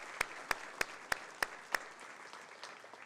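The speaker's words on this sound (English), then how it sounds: "So I'd like to give you all a round of applause to thank you for your commitment." A few sharp, evenly spaced hand claps from the audience at a USF Honors College spring graduation celebration, six quick pops close to the mic that then fade into quiet room noise.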